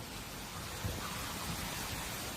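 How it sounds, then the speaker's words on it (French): Heavy, continuous tropical downpour over table-topped tepui mountains above rainforest, a steady dense hiss of rain at constant loudness with faint low rumbles, no voices. "Il pleut presque en continu sur les reliefs tabulaires des Tepuy"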